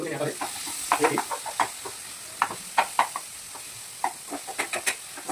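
Onions and tomatoes fry in a pan for a fish curry, with a steady soft sizzle under repeated close scraping and stirring taps from a spoon, irregular and fairly loud, with no voice over them.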